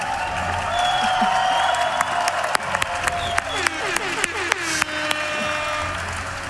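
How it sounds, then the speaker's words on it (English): Applause and cheering from the crowd at an esports Dota grand final, a broad roar with sharp clap and bang transients scattered through it, fairly loud and sustained. "That deserves an applause"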